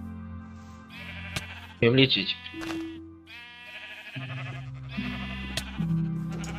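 A Minecraft sheep bleats a few times amid game sounds, with a person talking over it.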